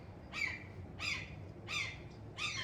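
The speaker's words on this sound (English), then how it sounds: "Shut the fuck up, bird." Loud bird squawks repeat four times at steady intervals of about half a second, each a harsh, close call standing out over a low background hum.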